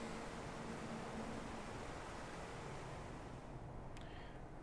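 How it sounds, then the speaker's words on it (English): Water washes over the well deck of the sinking hospital ship Britannic in a video game, a steady broadband rushing wash, loud and continuous with no voices. "there's the water's coming over into the well deck"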